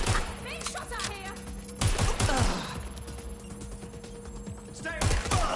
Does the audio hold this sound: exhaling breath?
no